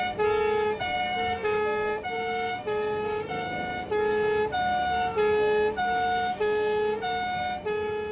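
An ambulance siren wails loud and close, its two tones alternating steadily, with no voices over it.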